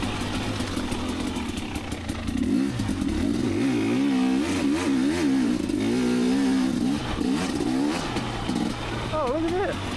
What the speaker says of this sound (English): riding the 2019 KTM 250XC today